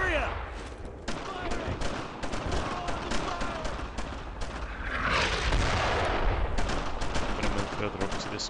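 Sustained suppressing gunfire in a WWII Brothers in Arms firefight, rapid rifle and machine-gun bursts crackling continuously at mid distance, with a louder swell of fire midway and voices calling out over it.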